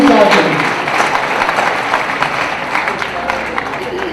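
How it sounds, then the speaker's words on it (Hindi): A large audience at a Hindi poetry gathering in Indore claps steadily and densely. A voice briefly rises over the noise at the start, then the applause carries on without a break. "तालियां जोरदार लगाओ"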